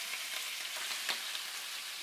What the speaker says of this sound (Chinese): 就马上把排骨下锅